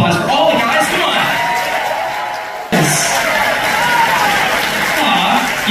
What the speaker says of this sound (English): Let's give a round of applause for all the guys.